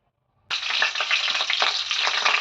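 Cumin and mustard seeds hit hot oil and burst into a sudden loud sizzle after a moment of silence, then keep crackling steadily up close.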